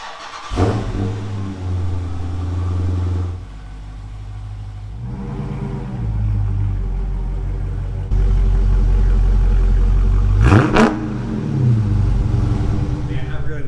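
A Dodge Charger SRT 392 with its V8 engine idling and revving loudly nearby as it is moved into a garage, with a sharp rising rev burst near the end.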